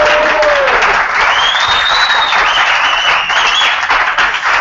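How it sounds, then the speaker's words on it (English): Audience at a tech talk on web programming claps loudly and continuously, with a whistle rising through the sustained applause. "Applause."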